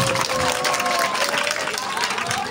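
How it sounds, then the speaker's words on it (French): A room of children applauding loudly together in a classroom, dense continuous clapping with crowd noise that holds steady for a couple of seconds. "on s'applaudit très très fort"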